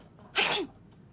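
A single sharp sneeze in a video game, brief and fairly loud, against near silence.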